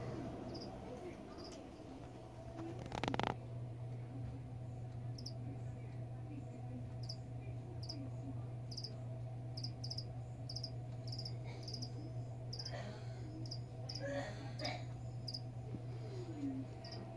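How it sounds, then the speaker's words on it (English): Crickets chirp steadily in a roadside field at the front of a neighborhood at night, a faint continuous drone with a brief knock near the start and occasional small sounds. "I was trying to get a peaceful cricket sound"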